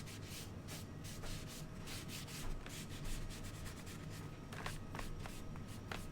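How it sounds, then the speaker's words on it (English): Steady rubbing of a baby wipe across painted wood, working off and smoothing distressed paint, with continuous close scratchy friction and a few sharper swipes near the end, no voices. "wiping this off with a baby wipe because I've got it here. Kind of rubbing it in a little."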